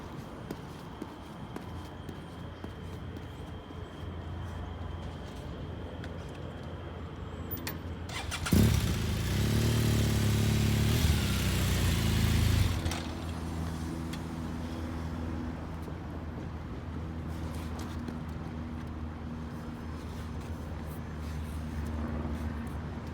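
A motorcycle is started and ridden into a parking stall, a low idle rising to a louder engine rumble for a few seconds mid-clip and then settling back to a steady idle, with faint background noise and no talk.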